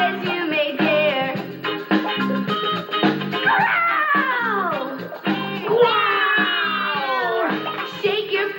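Several voices in a children's musical number growl loudly like a bear, imitating the animal in long rising and falling vocal growls over backing music.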